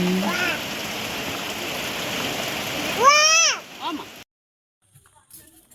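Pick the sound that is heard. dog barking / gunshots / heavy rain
heavy rain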